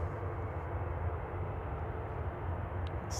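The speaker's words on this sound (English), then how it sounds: "It's on approach, Pilatus PC-24." A Pilatus PC-24 business jet on approach to Manchester Airport, a steady, faint broadband engine roar with no distinct rise or fall, heard alone from a distance.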